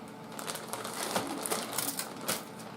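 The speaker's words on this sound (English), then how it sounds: "I just grabbed some bones, put them in a zipper freezer bag." A zipper freezer bag of chicken and beef bones is handled in a kitchen, giving a series of crinkly plastic rustles and small hard clicks and knocks, close and fairly quiet, with no speech.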